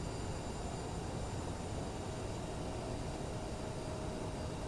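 A CJR-700 jet idles with a little power added while taxiing to the runway in a flight simulator game, giving a constant, even engine roar and whine with a faint steady tone and no talking.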